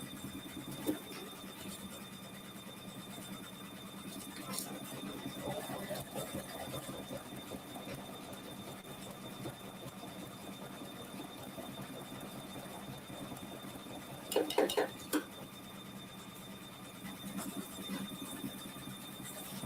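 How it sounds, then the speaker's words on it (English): A sewing machine works a slight zigzag stitch while ruler quilting a winter landscape organizer, humming low and steady throughout with a few brief clicks and taps breaking through. "I'm going to continue doing a slight zigzag stitch here"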